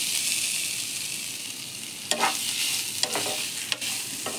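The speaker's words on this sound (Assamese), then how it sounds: "এতিয়া নাৰিকলখিনি অকণমান সময় ভাজি ল'ম।" Grated coconut fries in ghee in a wok, with a steady bright sizzle throughout and three short scraping strokes of a spatula as it is stirred, close by and with no talk.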